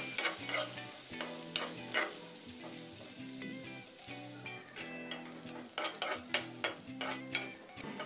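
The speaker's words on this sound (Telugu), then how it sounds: "మీడియం ఫ్లేమ్లో ఉల్లిపాయని బాగా ఫ్రై చేసుకోవాలి." Chopped onion, green chili and seasoning seeds frying in hot oil for a beans and tomato curry, a steady close sizzle with occasional sharp pops, spatula scrapes and stirring clinks throughout, no voices.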